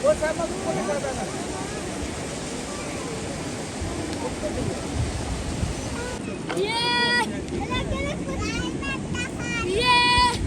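Fast-flowing river water at Blue Water in Kalam, Swat Valley, roars with a steady broadband rush, and voices talk over it in the second half.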